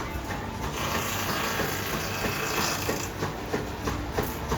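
A 1930s wood lathe runs while turning an axe handle, giving a steady mechanical whir with a fine high whine and scattered scraping ticks from the cutting, fairly loud and with no speech.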